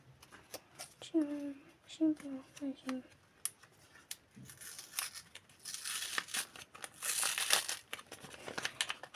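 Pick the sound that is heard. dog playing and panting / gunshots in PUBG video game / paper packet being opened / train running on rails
paper packet being opened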